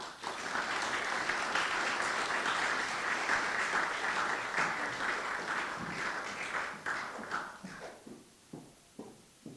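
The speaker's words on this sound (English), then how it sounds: "You're going to have to keep the applause going" Audience applause at the launch of a renewable energy sector development project in St. Lucia, a dense sustained clapping that holds steady and then thins into a few scattered final claps.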